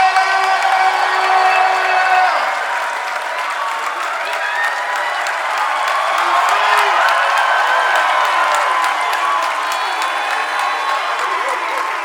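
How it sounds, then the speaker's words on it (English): A large festival crowd in Ghana at the BlackStarLine Festival applauds and cheers for Dave Chappelle, a loud sustained roar of clapping, whoops and shouting that fills the whole stretch. "stand up and give a round of applause for Dave Chappelle!"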